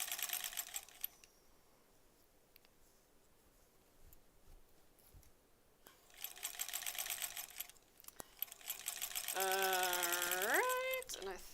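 A sewing machine stitches the last seam of a quilt block in short near bursts with pauses between, the final run the longest, with no talk over it.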